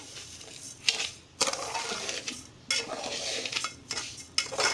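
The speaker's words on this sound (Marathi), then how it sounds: "आता मिश्रण छान असं एकजीव करून घ्यायचं आहे आपण" Grated coconut and cardamom powder being mixed together in a metal vessel for Malvani-style coconut barfi, giving repeated scraping and clinking strokes of a spoon against the pot, close and fairly loud, with short pauses between bursts.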